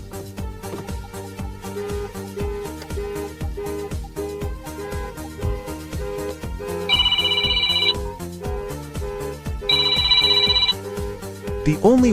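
A phone rings twice with a steady tone, each burst about a second long, over a continuous background of music, triggered by a StarLine Eclipse Pro car alarm calling the owner.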